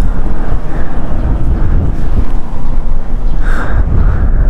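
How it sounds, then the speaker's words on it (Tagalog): Strong wind gusting across an open mountain view deck at Amgalayguay on the Halsema Highway road to Tinoc, a steady loud broadband roar buffeting the microphone throughout. "Simoy ng hangin."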